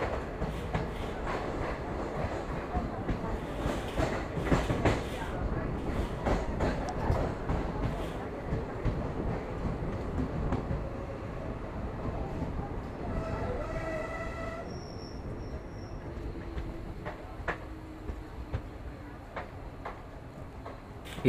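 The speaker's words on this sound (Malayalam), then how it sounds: "തിരൂർ റെയിൽവേ സ്റ്റേഷൻ്റെ മൂന്നാമത്തെ പ്ലാറ്റ്ഫോമിലേക്ക് നമ്മുടെ കണ്ണൂർ എറണാകുളം ഇൻ്റർസിറ്റി എക്സ്പ്രസ് എത്തിയിട്ടുണ്ട്" Kannur–Ernakulam Intercity Express pulling into platform three at Tirur railway station: a steady, loud broadband rumble of rolling carriages, with a brief high tonal whine near the end.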